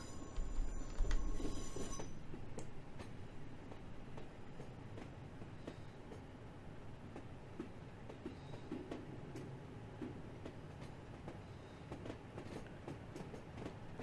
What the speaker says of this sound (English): our train is all British Rail blue livery. And we've got 37219 as our locomotive